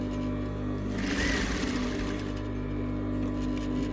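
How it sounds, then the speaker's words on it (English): A Juki industrial sewing machine runs close by with a steady mechanical hum and drone, and a brief louder whirring stretch as the needle stitches. "So I turn on my machine, and then can see my stitch."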